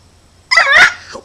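A person imitates a dog barking, a loud, close woof sound followed by the start of another.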